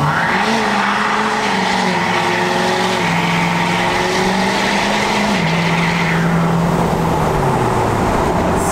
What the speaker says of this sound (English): Outside exhaust note.